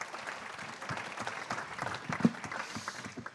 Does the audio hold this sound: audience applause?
yes